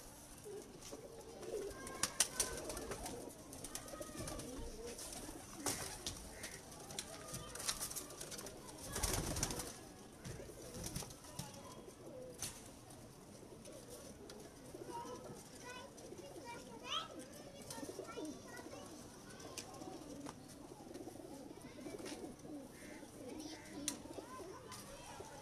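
Home-breed pigeons of the Mian Nazeer bloodline coo softly in a loft, mixed with other bird calls and distant children playing, with occasional voices and handling noises over a steady outdoor background.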